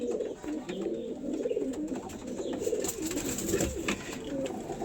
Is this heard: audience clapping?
no